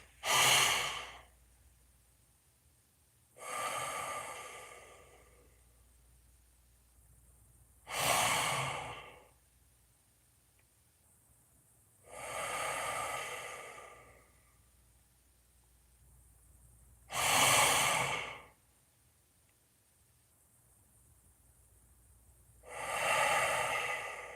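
Slow, deep breathing exercise: six long, airy breaths spaced evenly a few seconds apart, close and clear, with quiet stillness between each inhale and exhale.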